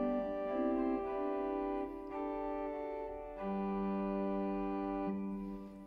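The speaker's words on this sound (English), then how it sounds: "a principal in the historic bank sounds like this." A principal stop from the historic sample bank on a Johannus Studio 350 organ plays a short phrase of sustained, clear, open pipe tones, several held notes changing in turn, heard alone in a reverberant room.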